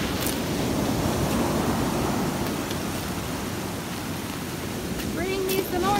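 Surf from high waves on a Gulf beach shortly after Hurricane Sally, a steady broadband wash with wind noise across the whole stretch, and a brief whistle-like tone near the end.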